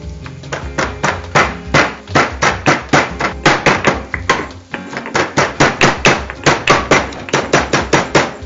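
Garlic and ginger are pounded with a pestle in a steady run of sharp, heavy thuds, close and loud, falling roughly three per second with a brief pause partway through.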